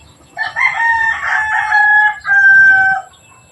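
A two-year-old rooster with a large comb crows once, close and loud, a long drawn-out call with no other sounds around it.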